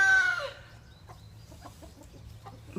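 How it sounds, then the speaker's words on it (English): Farm chickens cluck, with a brief rooster crow at the start, followed by scattered soft clucks over a low background hum. "so maybe the chickens will hush for a bit while they eat"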